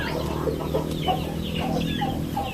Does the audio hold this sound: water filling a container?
no